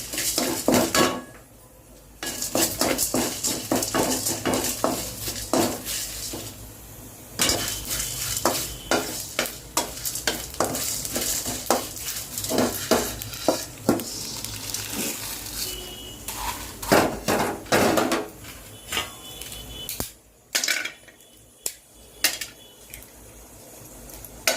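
A metal spoon scrapes and clinks against a pan as whole black pepper, cumin seeds and bay leaf are stirred and dry-roasted for garam masala powder, with steady busy rattling, faint sizzle and a few brief pauses.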